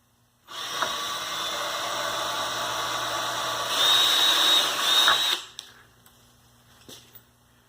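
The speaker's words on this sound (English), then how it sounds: "This is practically new drill." A power drill whirs steadily for about five seconds, rising in pitch near the end, then stops, leaving faint clicks and room noise.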